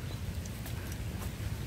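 Horses' hooves clip-clop at a park, a steady close patter of hoofbeats over low rumbling background noise, with no voices.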